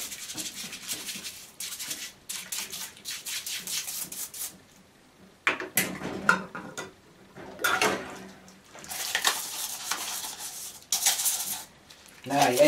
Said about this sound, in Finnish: ei ketään kuitenkaan kiinnosta meikäläisen tiskaaminen täällä.